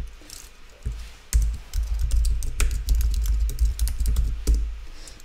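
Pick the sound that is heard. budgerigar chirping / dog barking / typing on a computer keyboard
typing on a computer keyboard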